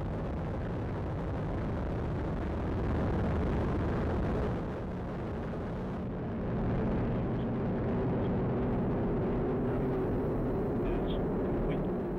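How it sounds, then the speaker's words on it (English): A United Launch Alliance Atlas V rocket carrying a U.S. Air Force space-based infrared satellite ignites and lifts off, heard as a sustained, heavy rumbling roar from a distance that swells slightly and holds steady. "We have ignition and liftoff of the United Launch Alliance Atlas V rocket"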